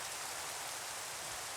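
Rain falling in Minecraft, a steady soft hiss of many tiny drops pattering evenly, quiet and continuous, with no voices or other sounds.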